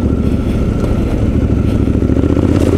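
Triumph Scrambler 1200 XE motorcycle ridden off-road on dirt tracks, its engine a steady, loud, close rumble with rough clattering texture throughout, no voices.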